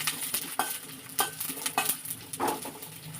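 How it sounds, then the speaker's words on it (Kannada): Chopped onions frying in hot oil in a pan for a tomato gojju, giving a steady sizzle broken by repeated scraping clatters as they are stirred, close and fairly quiet. "ಎಣ್ಣೆ ಕಾದ್ಮೇಲೆ ಟೊಮೊಟೊ ಈರುಳ್ಳಿ ಹಾಕ್ಕೊಂಡು ಫ್ರೈ ಮಾಡ್ಕೋಬೇಕು."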